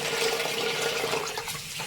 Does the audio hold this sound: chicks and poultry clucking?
no